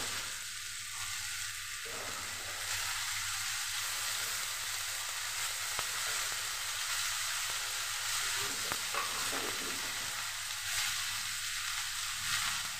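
Potatoes and cut drumsticks frying together in a pan, a steady low sizzle running throughout with occasional soft stirring scrapes and no talk.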